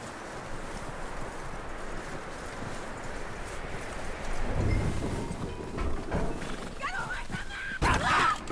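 Horse hooves clip-clop in Red Dead Redemption 2 at a steady, moderate pace beneath ongoing game dialogue, with a louder burst of activity near the end.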